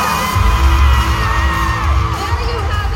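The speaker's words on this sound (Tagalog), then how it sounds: "grabe yung hiyawan ng Araneta!" A packed crowd at Araneta screams and cheers loudly and continuously at a Century Tuna Superbods pageant event, a dense roar of whoops and shouts that swells and holds for a few seconds.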